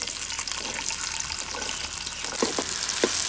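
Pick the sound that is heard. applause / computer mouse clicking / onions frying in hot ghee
onions frying in hot ghee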